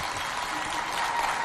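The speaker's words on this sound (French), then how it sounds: "Applaudissez très fort pour Mandigi Célestin" Steady, loud clapping from a crowd, continuous and dense throughout with no pauses or voices standing out.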